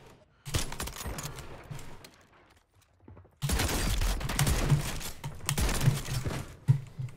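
Bursts of gunfire trade back and forth in a fast online shooter game, a short volley near the start, a pause, then a dense, loud stretch of rapid shots with a few sharp cracks standing out.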